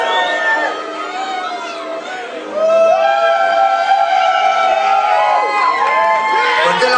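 Wedding guests cheer and shout together after a toast, with a lively crowd of overlapping raised voices and whoops that swell louder partway through, while talk runs underneath.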